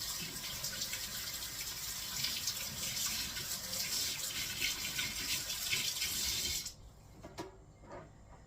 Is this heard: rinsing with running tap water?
yes